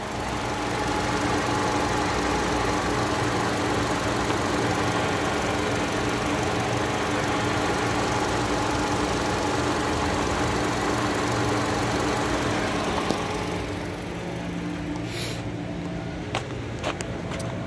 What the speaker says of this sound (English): Motor runs perfect.